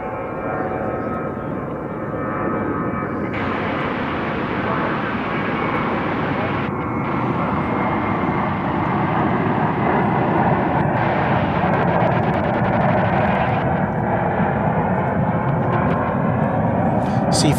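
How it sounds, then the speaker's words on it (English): A Boeing 777 arriving from Madrid rumbles at DFW Airport, a loud sustained engine roar with a broadband wash that slowly swells over many seconds, and a voice talks at points. "777 came in from Madrid 39 minutes ago."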